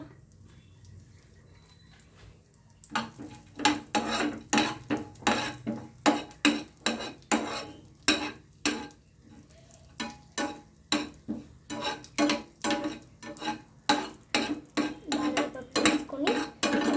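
Carrot halwa with almonds is stirred in a pan, a metal spoon scraping and clanking against the pan in a quick, regular rhythm of strokes, loud and close, over a faint sizzle with no talk.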